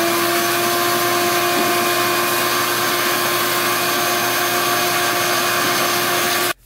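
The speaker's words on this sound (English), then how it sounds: "We'll vacuum that out quick." A vacuum cleaner runs loudly and steadily at close range on a dirt bike, with a constant droning whine, then cuts off abruptly at the end.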